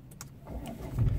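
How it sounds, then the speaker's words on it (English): Jaguar XE engine starting up, a brief low rumble that builds and settles into a steady idle, heard close and alone. "Turn on the engine."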